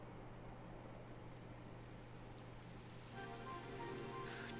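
Steady rain falls in the Dragon Quest 11S video game, a faint, even patter with a low hum underneath, growing slightly louder toward the end.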